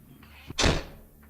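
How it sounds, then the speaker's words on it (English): A closet door at the top of a staircase is slammed shut, with a single loud, close thud and a short boom after a faint preceding knock, followed by quiet. "My mother slammed the door and locked it from the outside."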